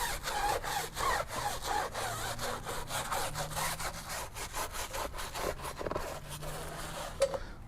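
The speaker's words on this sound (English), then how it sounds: "And I just want to scrub the tyre." A tyre brush scrubs the rubber of a car tyre during wheel cleaning, giving steady, rhythmic bristle strokes that rasp back and forth close by for several seconds with no talking.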